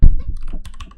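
A short burst of computer keyboard typing, a few quick close keystrokes, fairly loud and alone.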